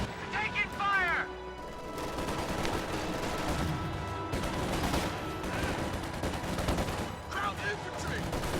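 Dense gunfire and machine-gun bursts fill a World War II video game battle, with rattling shots and explosions overlapping continuously alongside shouted voices.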